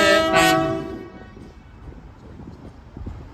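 A diverted train at Carlisle sounds a loud horn blast at the start, then the rumble and rhythmic clatter of wheels over rail joints carries on more quietly as it passes.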